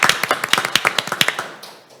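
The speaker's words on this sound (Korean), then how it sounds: "박수로 맞아주십시오" Audience applause greets a speaker at a public forum, with sharp, distinct claps from a modest group close by, densely spaced at first, then thinning and fading out after about a second and a half.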